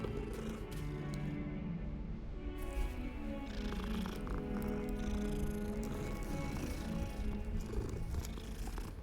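A cat in the video game Hogwarts Legacy purrs in a steady, close, rumbling rhythm that runs without a break, with faint game sounds around it and no speech.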